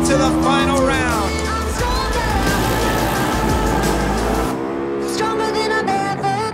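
A Pro Stock motorcycle drag racing run at an NHRA event, its engine roaring loud and close with shifting pitch before cutting off near the end, while an announcer talks over it.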